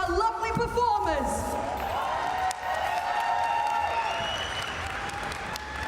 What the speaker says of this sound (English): let's give a big round of applause once again for our lovely performers